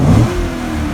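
A Maserati or Corvette engine revs hard toward about 4,000 RPM, a loud, close, rising roar that holds steady through a brief one-second burst.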